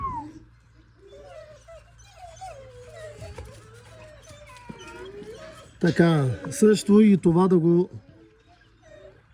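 Several imported dogs whimper and whine, with high pulsing cries that grow loud and close toward the end, while someone talks over them throughout.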